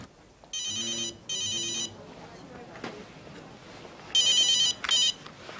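A telephone rings indoors in two pairs of electronic trills, two bursts early and two louder ones later, separated by quieter room noise with faint background sound.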